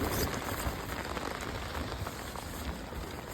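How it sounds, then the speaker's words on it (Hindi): Steady rain falls at a Raghupur Fort campsite in the morning after an all-night downpour. Dense patter of drops hits surfaces close by, continuous and even, with no talking. "बारिश।"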